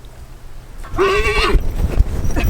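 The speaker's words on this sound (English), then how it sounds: "Hey Jessica, so the horse freaked out a moment." A horse gives a loud, close whinny of about half a second with a falling, wavering pitch, alone and without talk, followed by a few scuffs and hoof knocks.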